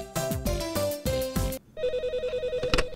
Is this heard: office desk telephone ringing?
yes